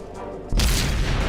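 An artillery gun fires in the tank game World of Tanks, a sudden loud deep boom that cuts in after a quiet moment and then rolls on as a heavy sustained rumble.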